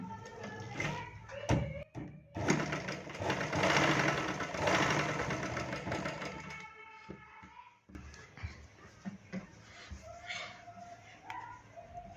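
A sewing machine stitches a blouse shoulder seam in a steady whirring run of a few seconds, then falls to quieter intermittent clicks and taps.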